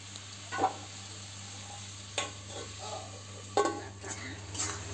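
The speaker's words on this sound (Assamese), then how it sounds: "এনেকৈ লৰাই লৰাই ভাজি ল'লোঁ" Spices with turmeric and salt fry in a pan for an elephant-foot yam and local chicken dish, giving a low steady sizzle broken by a few sharp scrapes and clinks of stirring.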